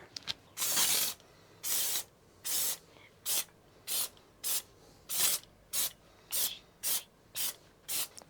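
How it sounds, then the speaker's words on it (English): Repeated short bursts of aerosol spray while leathering a Range Rover Classic centre console, about a dozen hissing blasts in an irregular rhythm, close and fairly loud with brief pauses between. "So pass me the spray."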